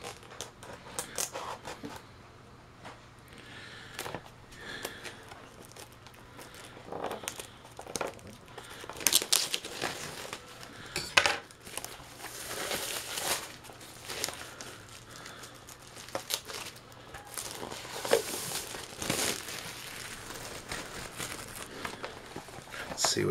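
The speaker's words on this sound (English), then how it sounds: "I'm just going to slice this plastic." Plastic shrink wrap is sliced and peeled off a thick cardboard vinyl record box set. Close crinkling, tearing and rustling bursts come in irregular spurts, with some quiet gaps between them.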